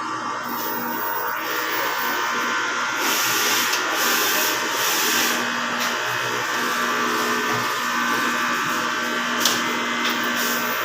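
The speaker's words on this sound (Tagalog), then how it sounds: "Kailangan natin mag-nozzle check para ito yung reference natin na good condition yung printer natin" Inkjet printer running a nozzle check after head cleaning, a steady mechanical whir and hiss with faint clicks and a brief tick near the end, alone without talk.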